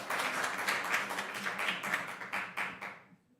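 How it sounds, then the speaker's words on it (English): An audience gives a round of applause at a civil rights conference, steady clapping from a room of people that swells briefly and then fades away, fairly soft and with no talking. "let's welcome her with a round of applause"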